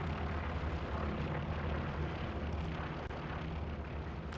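Recon plane in the World War II video game Hell Let Loose, a continuous broad engine drone mixed with rumbling battlefield noise, steady and fairly loud with a few faint clicks.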